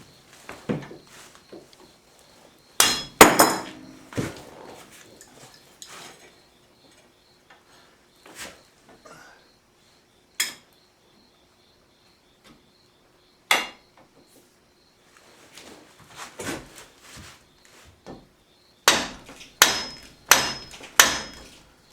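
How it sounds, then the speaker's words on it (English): A pry bar strikes metal parts on a 2007 Arctic Cat 500 ATV in sharp, irregular metallic knocks, some in quick clusters and others spaced seconds apart, close and fairly loud against near silence. "Break out the trusty pry bar."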